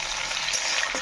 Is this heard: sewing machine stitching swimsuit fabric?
no